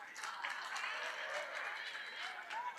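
University students clap together in a lecture setting, a sustained murmur of applause mixed with crowd noise and some talk.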